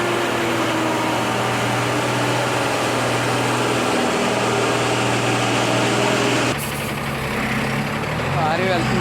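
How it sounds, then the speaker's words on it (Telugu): Heavy loaded 12-tyre lorry labouring up a muddy, gravelly ghat road, its engine droning loud and steady with a deep low hum before the tone abruptly shifts near the end. "అయితే లారీ చాలా స్ట్రగుల్ అవుతుంది ఎక్కుతుంది."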